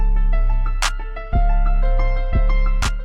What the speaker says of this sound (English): if we put an EQ on this piano here that I'm using in this little mini beat